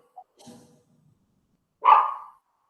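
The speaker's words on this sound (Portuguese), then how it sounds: "Ai, cachorrinha, não late agora não," A small dog gives a single short, loud bark near the end, after a few faint yelps and a quiet, muffled voice. It is heard indoors at home.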